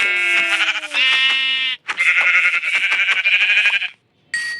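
A goat in the Minecraft video game bleats in a quick run of loud, wavering bleats. There are short pauses between them and a final brief call at the end, with no talking.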